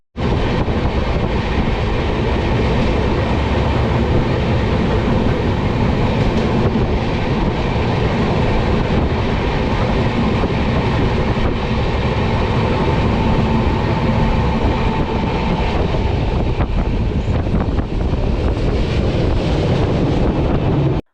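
Delhi-Amritsar Shatabdi Express train running at speed, a loud, steady rumble of wheels and carriage noise with wind roar that continues throughout without any talking.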